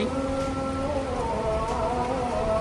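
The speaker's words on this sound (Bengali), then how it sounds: "বাইরে বৃষ্টি" Steady rain falling outdoors at Cox's Bazar by the sea at night, a continuous even patter, with a faint tonal call like a distant call to prayer in the background.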